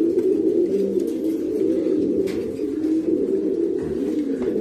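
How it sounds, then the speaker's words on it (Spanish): Steady, close cooing of a breeding pigeon in a Cuban loft, soft throaty calls running continuously across the clip with faint bird noises around it. "Esta paloma tiene todo metido adentro."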